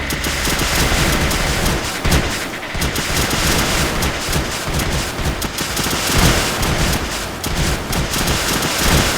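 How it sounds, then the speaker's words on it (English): Massed launchers firing nonstop in Creeper World 2, a relentless rapid barrage of sharp percussive shots rattling like heavy rain or machine-gun fire, loud and continuous throughout. "Now let's get all of our launchers down here and just fire like crazy."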